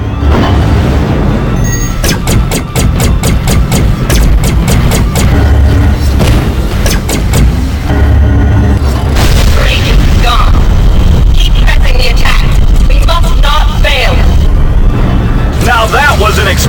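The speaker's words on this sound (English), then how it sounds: "Now that was an explosion" Loud, sustained booming and rumbling from a space combat battle at a mining station in Tachyon: The Fringe, dense continuous blasts and crackle under game audio with a voice speaking over it.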